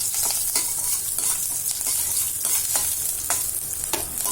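Green chilies and ginger garlic paste fry in a pan with a steady close sizzle, punctuated by occasional stirring scrapes, no talking.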